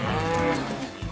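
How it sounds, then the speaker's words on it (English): A cow on a farm gives a single deep, drawn-out moo close by, loud and alone with no voices. "Kids, these are cows."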